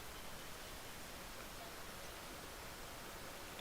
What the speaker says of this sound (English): Honestly, the pressure washer doesn't sound like a pressure washer.